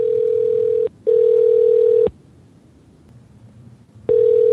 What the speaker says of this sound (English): we're calling her right now